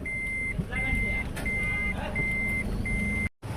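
Repeated electronic reversing beeps from a vehicle turning in a flooded street, five steady evenly spaced tones over a continuous engine and water rumble, fairly close, with a voice talking in the background.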